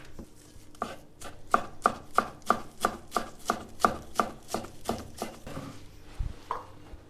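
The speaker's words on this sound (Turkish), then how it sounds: "Yarım demet maydanoz doğruyoruz." Half a bunch of parsley chopped with a knife on a board for a Turkish stuffed eggplant dish: a steady run of about fifteen crisp, evenly spaced blade taps, close and clear, alone without talk.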